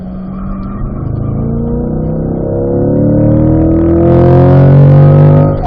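Car engine heard from the cabin on a ride-along, holding a steady speed through a corner before the revs climb under hard acceleration, the note rising and growing louder toward the end.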